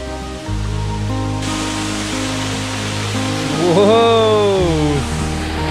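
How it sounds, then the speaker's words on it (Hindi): A continuous roar of rushing water from a waterfall in Kalasa, Karnataka, fills the clip, broad and steady, with a brief voice rising over it near the end. "पानी की आवाज़ भी आ रही है।"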